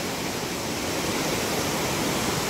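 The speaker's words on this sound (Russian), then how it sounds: "Бурлит река." A river rushes by on the first day of a mountain trek, a steady, loud, unbroken roar of churning water that fills the whole stretch with no voices.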